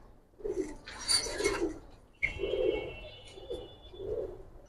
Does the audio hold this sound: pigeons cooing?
yes